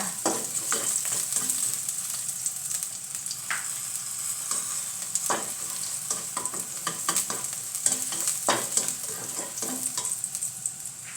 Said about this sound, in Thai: พอเหลืองนิดๆเราก็จะใส่หมูกรอบลงไปแล้วนะคะ ค่ะใช้ไฟแรงนิดนึงค่ะ